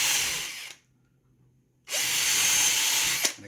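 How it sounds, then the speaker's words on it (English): Power drill boring pilot holes into a wooden model railway baseboard: two loud, steady high-pitched whirring bursts separated by a short pause, the second ending with a brief bump. "I'm just going to drill some pilot holes."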